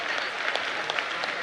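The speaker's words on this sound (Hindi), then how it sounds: "ताली बजाओ इनके लिए" An audience at a religious discourse gathering bursts into dense, continuous applause, loud and brief.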